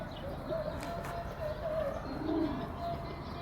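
Pigeons coo softly in short repeated phrases against a quiet, faintly noisy background, with no talking.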